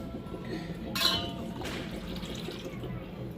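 Ajwain water is poured into a glass bottle, giving a soft liquid trickle with a bright clink of glass near the start. Faint background sounds continue underneath.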